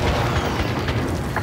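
A heavy, sustained rumbling boom from an airstrike in Call of Duty: Modern Warfare, dense and loud throughout with no speech over it.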